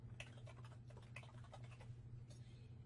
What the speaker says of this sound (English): I'm going to type in my question.